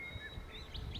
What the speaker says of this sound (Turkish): Kuş cıvıltıları inanılmaz bir yankı yapıyor.